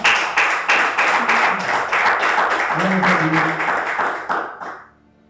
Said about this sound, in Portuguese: Você pode dar salva de palmas para o Senhor nessa noite?